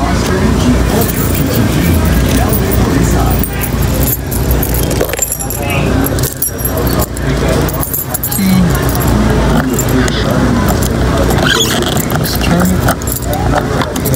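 A key jingles and turns in a locking gas cap on a car, a close metallic clinking and clicking under a voice with road traffic rumbling behind.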